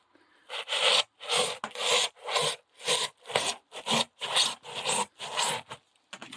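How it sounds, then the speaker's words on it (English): Insulation saw cutting through a rigid roofing insulation board, about ten rhythmic back-and-forth strokes, each a dry rasping scrape with brief pauses between, close and fairly loud with no talk. "Using an insulation saw there."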